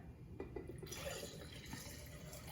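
Liquid marinade poured over peeled soft-boiled ramen eggs, a soft continuous trickle and splash filling a container for a couple of seconds, close and fairly quiet.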